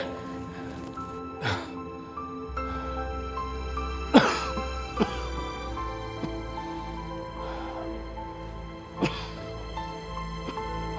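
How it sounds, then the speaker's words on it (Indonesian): A man coughs hard and repeatedly in a domestic drama scene, several harsh bursts spread over a steady background hum with no talk. "Gimana nggak apa-apa itu batuknya sampai parah kayak gitu?"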